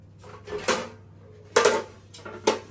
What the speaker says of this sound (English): I've got to get the pans out